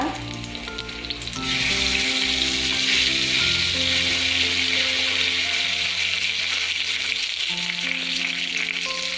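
Steady, loud sizzling of dry chillies and bay leaf frying in hot oil, a continuous crackling hiss that swells after the first second and holds throughout, with no voices.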